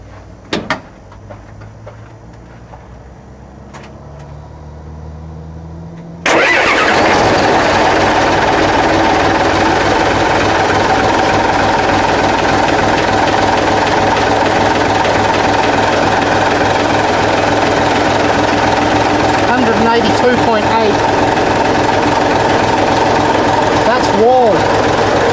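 A car engine cranks and catches after a few quiet seconds, then settles into a loud, steady idle that runs on for the rest of the clip, with a few brief clunks near the end.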